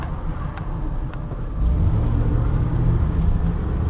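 A Ford F600 box truck with a power lift drives and turns, its engine a steady, loud low rumble that swells slightly partway through as it pulls around.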